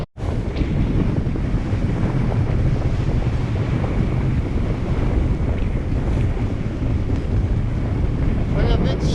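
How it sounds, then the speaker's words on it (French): Strong wind roars across a sailboat at sea, a loud, constant buffeting rush over the microphone with the wash of waves beneath it, continuing without a break. "Là il y a 21 nœuds. Ça souffle frais."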